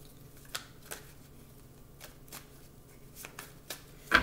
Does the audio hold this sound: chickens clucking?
no